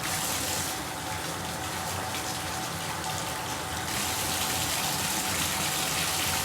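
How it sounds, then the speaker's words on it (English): A bleached shirt held under running tap water, a steady loud gush of flowing water over fabric lasting throughout, close and continuous with no voices. "And now we're going to take it and give it a nice rinse."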